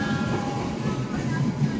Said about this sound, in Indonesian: Itu dia kereta api Argo Lawu sebagai kereta penutupan pada video kali ini.